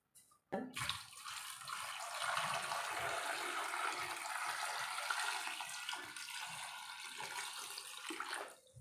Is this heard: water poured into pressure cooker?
yes